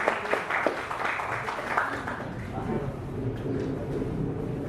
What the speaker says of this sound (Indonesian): Boleh kasih tepuk tangannya buat Bang Iqbal?